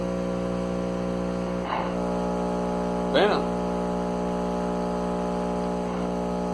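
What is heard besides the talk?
clean 60 Hz sine wave played through a speaker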